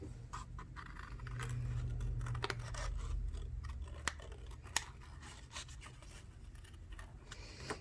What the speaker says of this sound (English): we're going to cut out our hair pieces